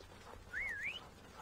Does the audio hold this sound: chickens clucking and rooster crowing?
no